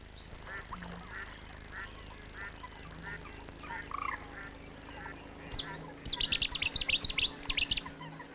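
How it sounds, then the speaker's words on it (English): A fast, dry ratchet-like trill from a grasshopper warbler rings out in bursts over a busy background of other birdsong, loudest near the end. "The grasshopper warbler, newly arrived from Africa, sprays a ratchet call across its territory."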